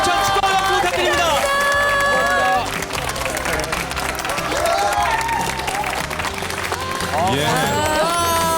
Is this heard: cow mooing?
no